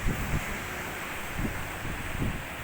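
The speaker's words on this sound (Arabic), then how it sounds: "طبعا حضراتكم سامعين صوت البحر جميل جدا جدا" Sea waves at Al-Bruvage beach in Alexandria wash in a steady broadband roar under gusty wind noise, with a few soft low surges rising and falling, and no talking.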